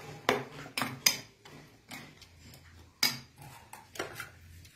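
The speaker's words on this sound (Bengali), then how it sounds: "এবার ভেজে রাখা চিংড়ি মাছগুলো ওর মধ্যে দিয়ে দেব, দিয়ে আবার ভালো করে মিশিয়ে নেব।" Fried prawns being stirred in a pan while cooking chingri vapa: close, irregular metallic clanks and scrapes of a utensil against the pan, about eight sharp knocks with quieter scraping between, no talking.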